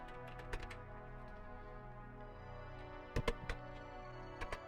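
Keys typed on a Commodore VIC-20 computer keyboard, a few scattered taps early on, then a short cluster of clearer, louder keystrokes later, heard close over a steady electronic hum.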